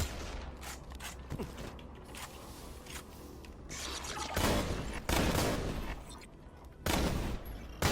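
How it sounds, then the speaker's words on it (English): Glitch-rarity shotgun effect firing in a Borderlands game, a series of loud rapid bursts with mechanical clattering between them, alternating quieter and louder volleys, no talking. "There it is, the shotgun effect."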